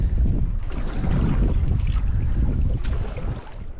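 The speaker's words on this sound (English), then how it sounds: "A little bit of wind whipped up, to be honest." Strong wind buffeting over a fishing boat offshore, a loud continuous low rumble and roar of gusts on the microphone, with faint higher hissing, no voices.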